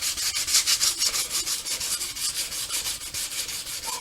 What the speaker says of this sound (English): Let's say you just want to sand the area that you're painting here.